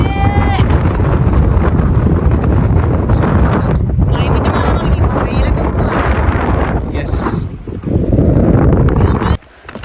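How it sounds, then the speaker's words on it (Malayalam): Strong wind on a Lake District mountain at a wild camping spot roars and buffets the microphone in loud continuous gusts, with a voice briefly heard under the noise. "നല്ല കാറ്റുണ്ട്."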